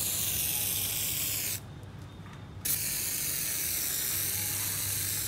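A refilled spray paint can loaded with plain water sprays hard against a wall, giving a loud, steady hiss that cuts out for about a second mid-stream and then resumes.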